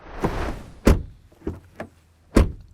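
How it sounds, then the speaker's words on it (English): Doors of a Škoda Enyaq electric SUV slam shut several times, a series of solid thuds with quiet gaps between them, close and clear with little else around. "Time to test the doors."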